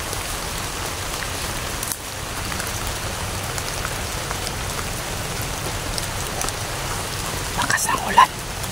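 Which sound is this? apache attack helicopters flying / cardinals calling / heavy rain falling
heavy rain falling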